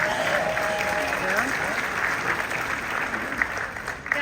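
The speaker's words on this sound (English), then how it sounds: "Let's give a round of applause." Audience applause at a team gathering, a steady wash of clapping that holds at even loudness for a few seconds, with a voice partly heard under it.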